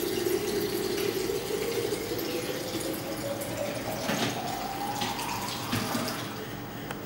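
Water pours steadily from a sparkling water dispenser tap in a brasserie into a vessel, the tone rising gradually as it fills, with a faint fizzing hiss.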